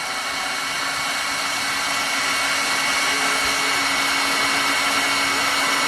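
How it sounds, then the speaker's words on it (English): A heat gun blows continuously close by while melting wax out of a metal piping tip, making an even, loud whooshing drone with a faint steady motor whine and no speech. "Just hit it with the heat gun and let the wax kind of fall out."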